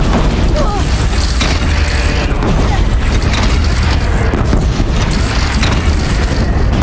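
A bridge in the Horizon video game is shot down, bringing a long, loud, continuous rumbling collapse with deep booms and crashing debris that fills the whole stretch, dense and close.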